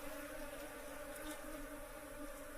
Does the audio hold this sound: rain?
no